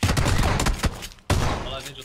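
Pistol gunfire in an online multiplayer shooter match, a rapid burst of loud shots, a brief pause, then more shots, with players talking over the game.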